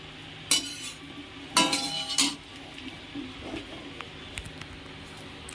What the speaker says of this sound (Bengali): এই যে কড়াইতে ভাজা হবে